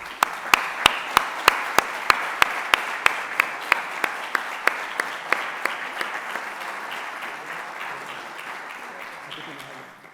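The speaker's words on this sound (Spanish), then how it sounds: "demos un cálido aplauso a don Felipe Sáez Barranquero" Audience applause at a talk on prostate cancer, opening with a few loud, evenly spaced claps that give way to softer, steady clapping from the crowd. The sound is moderately near and thins toward the end.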